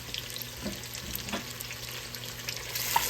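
Garlic sizzles in a pan alongside sausage and shrimp, a quiet continuous frying hiss with a few faint stirring scrapes, building slightly toward the end.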